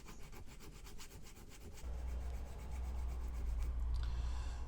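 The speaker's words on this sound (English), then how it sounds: "so I'm going to have to drill these out a little bit." Holes for the propeller shafts are drilled out on a Trumpeter 1/200 HMS Hood model ship fitted with a Pontos detail set, giving a steady scraping, rubbing grind that grows louder after about two seconds and continues close up with no talk.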